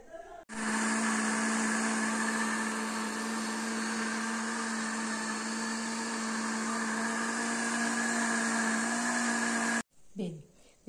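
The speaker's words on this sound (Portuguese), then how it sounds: "os 600 que eu vou bater no liquidificador" Kitchen blender mixing water with milk powder runs loud and steady with a high whine for about nine seconds, then cuts off abruptly, followed by a brief bit of speech.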